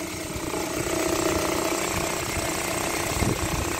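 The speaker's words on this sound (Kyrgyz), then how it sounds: "Мотордун үнү эле." A motor engine runs close by with a steady, rough mechanical drone and rapid chattering pulse, holding constant throughout at fairly loud level, with a faint voice now and then.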